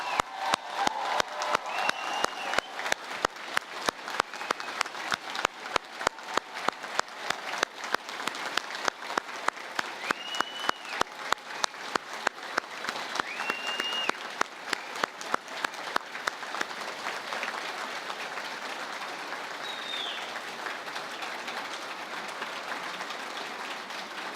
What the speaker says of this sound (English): how about a thunderous round of applause for our graduates